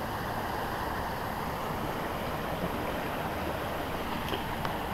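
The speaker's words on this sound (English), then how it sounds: "Got the brook back and behind there." A brook flows behind a bench along a short woodland path, giving a steady, soft rushing wash of water throughout, with no voices.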